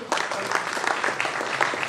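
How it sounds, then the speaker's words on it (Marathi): An audience at an award ceremony claps in steady, dense applause that carries on without a break for the whole stretch, fairly close and loud. "त्यांच्यासाठी टाळ्या वाजत राहिल्या पाहिजे"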